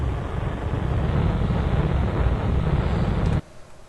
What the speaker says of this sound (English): That is such a strong engine.